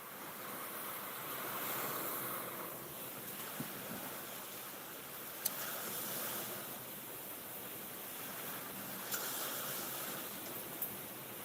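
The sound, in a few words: storm water hitting the front door of a camp during Hurricane Francine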